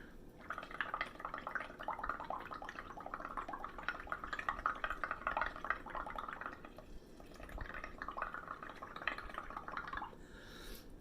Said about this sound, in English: I'm going to take my straw, put it in the bubble mixer, and I'm going to blow into it.